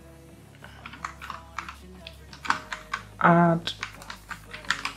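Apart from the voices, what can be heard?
typing a command on a computer keyboard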